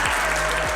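Short burst of audience applause for youth history challenge champions at a 100 Black Men of America conference, steady and fairly loud with a low hum beneath.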